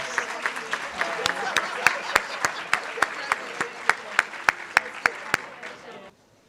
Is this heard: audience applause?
yes